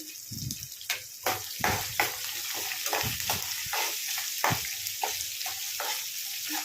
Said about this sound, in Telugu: కట్ చేసిన పచ్చిమిర్చి ముక్కలు వేసుకోండి. కట్ చేసిన అల్లం ముక్కలు వేసుకోండి.